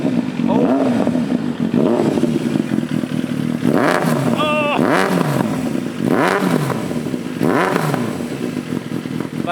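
A Kawasaki ZX-7R sport motorcycle engine idling roughly and revving up in four or five repeated bursts, loud and close, with mechanical clatter between the revs.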